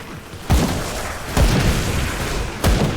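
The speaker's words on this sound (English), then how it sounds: "The cannon is doing a fair bit of damage" Cannon fire in the action RPG Grim Dawn: three heavy booming blasts at about half-second, one-and-a-half and two-and-a-half seconds, each a sharp low thump with a rumbling tail over a dense, noisy battle background.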